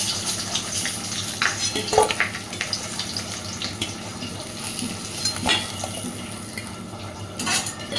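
Fish heads frying in hot oil in a home kitchen, with a steady sizzle and scattered clinks and scrapes of a utensil against the pan, close by and continuous with no talk.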